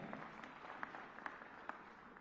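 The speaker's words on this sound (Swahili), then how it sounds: "Makofi kwa BBI" Crowd applause for BBI at a political rally, a faint, steady wash of clapping with a few sharper claps standing out.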